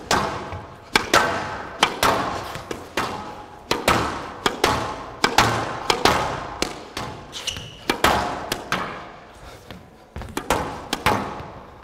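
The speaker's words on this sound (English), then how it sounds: "Just show a few of the volleys." An Eye Rackets V.Lite 110 Control racket strikes a ball in rapid volleys, producing sharp, evenly spaced thwacks roughly once a second, each followed by a short decay, close and loud with no talk.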